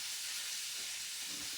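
Breakfast sausages sizzle in a pan with a steady, even hiss that fills the whole moment, fairly faint and alone.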